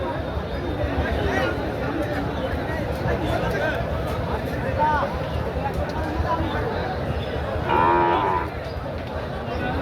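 Cattle moo repeatedly over a busy crowd's chatter at a large cattle market in Nilphamari, Bangladesh, with one louder, drawn-out moo standing out close by near the end.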